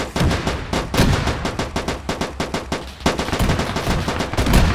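An anti-aircraft gun fires in an Arma 3 World War II naval battle between landing ships and frigates, a loud rapid string of repeated shots in quick bursts with no talk over it.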